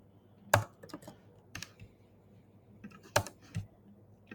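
Keys on a computer keyboard clicking in sparse bursts, with a couple of sharper, louder presses standing out like the enter key being struck, against a quiet room with no talking.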